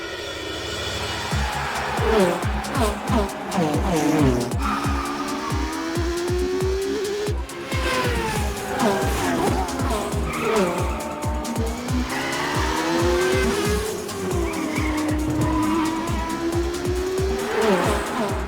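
Race cars from the Max Steel Endangered Species video game, loud revving engines and repeated tire squeals and skids over a steady backing track, with no talking.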